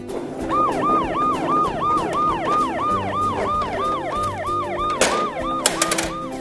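A wailing ambulance siren rises and falls in a steady, rapid rhythm, loud and close, with traffic rumble underneath and a brief clatter near the end.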